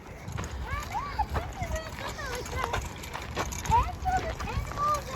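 Horse hooves clip-clop at a horse ranch along a nature walk at Van Cortlandt, a series of light, uneven knocks heard at moderate distance beneath outdoor ambience and chirping.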